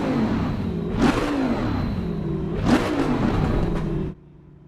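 Race car engine in the Assetto Corsa Competizione racing game, a steady loud drone with two rising rev surges and gear-change swells before cutting off abruptly near the end.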